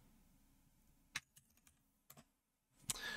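Sparse keystrokes on a computer keyboard as a short command is typed, a few crisp clicks spaced out over quiet, ending in a firmer key press and faint noise.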